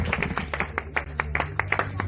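Church congregation at a Sunday worship service clapping in a steady rhythm, a dozen or so sharp claps at moderate volume over a low sustained hum of music.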